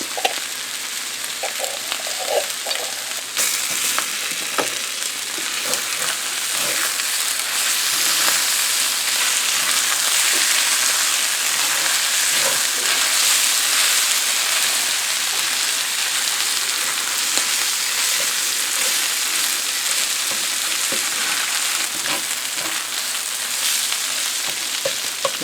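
Frito pie filling fries and sizzles steadily in a cast iron skillet with prepared horseradish just added, a dense continuous crackle broken by scraping stirs, close and loud with no talking.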